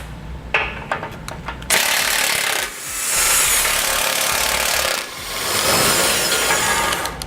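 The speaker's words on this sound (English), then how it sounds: "So you may need to use a breaker bar to loosen these bolts." Bumper bolts on a 2013 Nissan Frontier being loosened with a power tool: a few sharp clicks, then long loud grinding, whirring bursts of an impact tool, close and continuous with brief pauses between runs.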